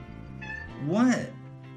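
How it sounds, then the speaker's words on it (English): A single drawn-out cat meow, close and clear, rising then falling, with a person's voice overlapping it. "You can hear my cat."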